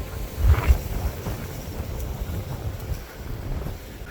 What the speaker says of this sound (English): it's getting real windy right now